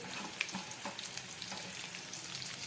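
Shredded cabbage and green chillies sizzle in a pan while being sautéed for a Gujarati sambharo, a continuous crackling fry with light stirring scrapes, close and steady, no voices.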